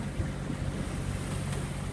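Rough sea waves wash against a sailboat at sea in about 20 knots of wind, a loud continuous rushing surge with wind noise and no pauses.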